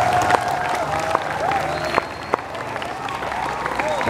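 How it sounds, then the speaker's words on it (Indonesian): Crowd applause at an Indonesian school ceremony, a dense sustained wash of clapping at moderate distance lasting throughout, with a faint tone from the public address system and brief sharp taps over it. "Tepuk tangan untuk mereka."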